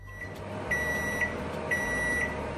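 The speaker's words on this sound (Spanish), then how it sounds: "Metemos las patatas al microondas. Lo vamos a dejar 20 minutos a tope." Microwave oven running on full power with potatoes inside, a steady low hum and fan drone with a thin whine, close and constant with no talk.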